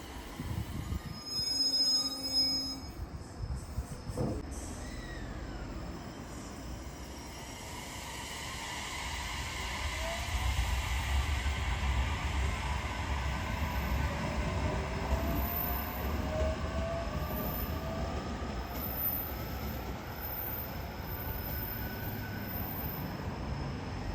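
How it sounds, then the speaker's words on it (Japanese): A train pulls into Sojo University station on the Kagoshima Main Line: a steady, loud rolling rumble with sustained high wheel squeal building and lingering as it slows, no talk. "まもなく列車が参ります。"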